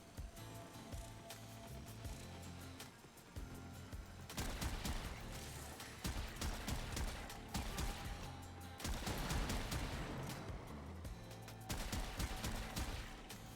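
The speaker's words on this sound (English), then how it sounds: "I can just shoot down a corridor and like, most of these guys will be dead" Rapid bursts of weapon fire from Warframe's Archwing mode, dense rattling volleys starting after a quieter stretch and repeating in loud waves through the rest, layered over game music and effects.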